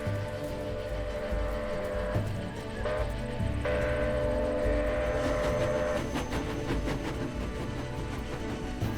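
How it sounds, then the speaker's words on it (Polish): A passenger train from Montreal to Buffalo rolling past with a steady continuous rumble and rail noise, tonal whines rising and falling, moderately loud and without any speech. "mój dziadek Jim Loft był jeszcze chłopcem, jak zwykle spieszył się, aby zobaczyć, jak przejeżdża pociąg z Montrealu w drodze do Buffalo w Nowym Jorku"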